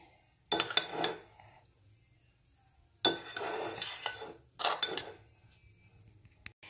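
Butter being mixed into croissant dough with a utensil, three bursts of clinking and scraping against a bowl separated by quiet gaps, close and fairly soft with no talk.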